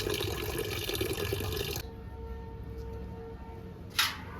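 Gongura leaves being washed under a running kitchen tap, a steady broadband rush of flowing water that cuts off partway, leaving quieter dripping and a brief splash near the end, with no talking.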